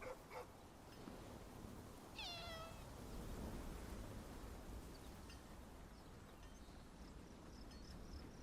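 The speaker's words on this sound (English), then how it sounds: "You gotta love a game that you can pet a kitty cat in." A single short cat meow from the medieval survival game Bellwright, faint against a steady wash of rain-like ambient noise, with no talk.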